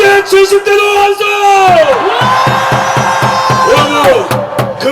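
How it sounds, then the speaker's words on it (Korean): Rally-goers in their sixties and seventies cheer and yell at a Daegu political gathering. A sustained amplified voice is followed by steady rhythmic bursts of crowd shouting, loud and close, rising and falling in regular beats. "60대, 70대도 함성!"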